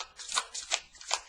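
A deck of tarot cards is shuffled by hand in three quick, crisp riffles, close up and alone against a quiet background.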